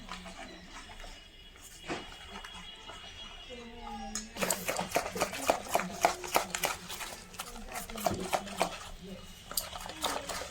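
A large spoon stirs flour batter in a bowl, giving rapid, uneven scraping and knocking strokes that turn busy and loud after a quieter start, with people talking in Bengali over the stirring.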